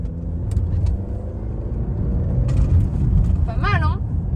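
A Ford Kuga II 1.5 EcoBoost SCTi 16V petrol SUV pulls away after a bend, its engine drone rising steadily and loudly from inside the cabin, with faint road noise and a brief tonal chirp near the end.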